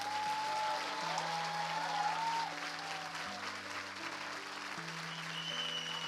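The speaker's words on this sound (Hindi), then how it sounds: "आइए प्रभु के लिए एक अच्छी ताली बजाएं" Church congregation applauding at a Hindi-language sermon, a steady wash of clapping from many hands that stays even for several seconds while sustained keyboard chords play underneath.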